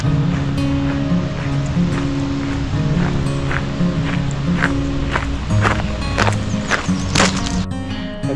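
Steady broadband wind rush on a hiking trail loop on a partly cloudy day, continuous and fairly loud, with faint rustling and scattered crunching steps mixed in.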